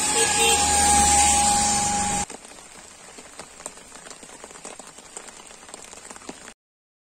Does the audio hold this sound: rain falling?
yes